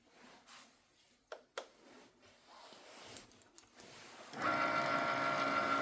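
A Cricut Maker cutting machine works through card paper with soft irregular clicks and whirs at first. It then settles into a steady, close mechanical hum of carriage and motor.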